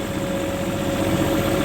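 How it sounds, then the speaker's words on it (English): A tractor engine idles steadily with a constant low, rumbling drone and a fixed hum, running close by on a farm where jackfruit trees are being sprayed and irrigated, with no talking. "Tractor"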